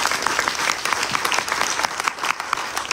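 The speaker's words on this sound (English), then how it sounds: "So give Chachi Gaitri a round of applause." Audience applause fills a Ganesh Chaturthi Utsav gathering, a dense, steady patter of many hands clapping continuously at close range, with no talk over it.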